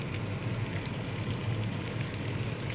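Onions sizzle and fry steadily in a hot pan with garlic, a dense continuous crackle at close range with no talking.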